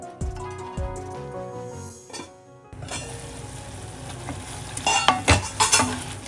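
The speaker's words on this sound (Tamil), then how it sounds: "பீர்க்கங்காய் சேர்த்து ஒரு ரெண்டு நிமிஷம் அதை மீடியம் ஃப்ளேம்ல வச்சு ஃப்ரை பண்ணிக்கலாம்" Ridge gourd fries in a pan over a medium flame, with soft sizzling and scraping, squishy stirring strokes that grow busier near the end, following a brief musical opening.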